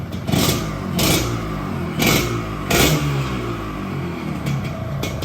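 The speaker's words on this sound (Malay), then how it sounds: "So, motor dah hidup" A Yamaha RXZ two-stroke motorcycle engine revs hard in several sharp bursts, each throttle blip rising then falling back to a clattering idle, loud and close.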